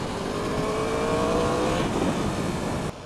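A 2015 Yamaha R1 sport bike pulls hard at full throttle in second gear, its engine note climbing steadily in a loud, close howl for about three seconds before cutting off abruptly.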